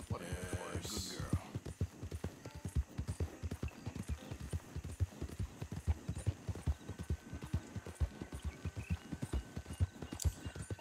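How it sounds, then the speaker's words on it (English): Horse hooves clip-clopping in a western video game, a steady, even rhythm of close hoofbeats with a brief snort near the start and low background hum. "That's my cowardly horse."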